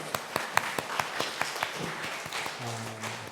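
Church congregation at a Sunday afternoon service clapping in praise to God; a handful of distinct, fairly sparse claps sound close by, thinning out as a low hum and a brief voice come in near the end.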